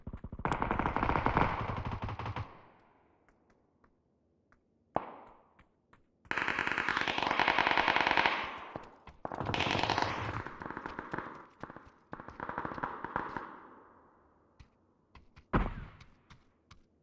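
Gunfire from the mountains in PlayerUnknown's Battlegrounds: long bursts of automatic fire and single sharp shots with gaps of quiet between them, loud and fairly close.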